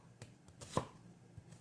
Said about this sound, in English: I'm going to roughly chop the onion